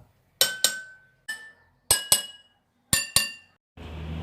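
Water-filled drinking glasses struck in turn, six clear ringing clinks in quick pairs at varying pitches, some shrill and some flatter, each decaying, ending with a short burst of hiss.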